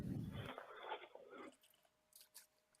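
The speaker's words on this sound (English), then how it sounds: "Sounds like ice chips." Ice chips are crunched in someone's mouth, a faint series of close chewing crunches followed by a few sharper bites, heard alone.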